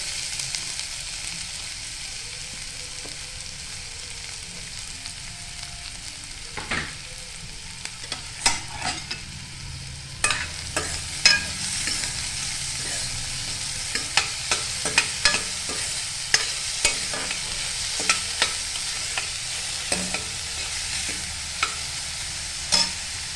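Onion and cumin frying in a pan make a low steady sizzle, with sharp spatula scrapes and taps against the pan growing more frequent in the second half, heard close with no speech.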